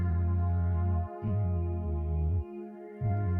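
A looped drum beat runs through a guitar amp simulation effect with heavy clipping distortion, sounding crunchy and saturated, with brief dropouts between bars.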